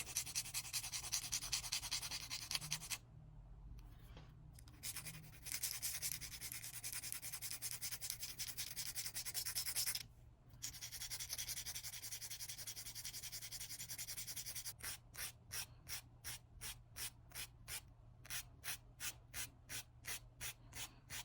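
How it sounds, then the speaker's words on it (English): Nail tips being shaped with a 180 grit hand file, working the edges and tip of a polygel nail: steady scratchy rasping strokes, continuous at first, briefly pausing, then turning into quick regular back-and-forth bursts, close and alone. "with this 180 grit hand file, I'm filing the edges to a crisp as well as the tip"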